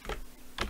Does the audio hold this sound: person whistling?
no